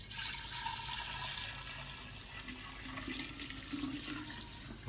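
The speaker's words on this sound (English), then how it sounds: "The tea is the new tea, and it's got a little bit of starter in it. And I'm going to fill up these jars." Freshly brewed kombucha tea with a little starter pours into jars, a continuous splashing, gurgling liquid stream close by without talk.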